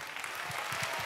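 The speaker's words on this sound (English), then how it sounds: "I think we will give him an extra round of applause" Audience applause at a Vemma Europe 2014 convention, steady broadband clapping sustained throughout at moderate level, with a few low voice-like murmurs underneath.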